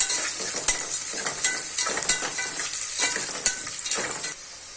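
Chopped onions and chilli fry in hot oil for a mushroom biryani, a steady close sizzle broken by regular scraping stirs of a spoon in the pan every half second or so, with no one talking.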